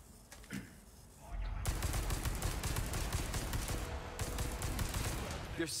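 Weapons fire in the video game Resident Evil 4 Remake: after a few faint shots, a dense, loud barrage of rapid gunfire runs continuously with sharp cracks and booming low end.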